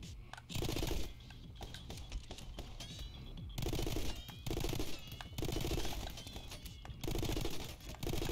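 A turret in a video game fires rapid bursts of gunfire in a stuttering rhythm, with short gaps between volleys and brief whistling tones mixed in, fairly faint overall.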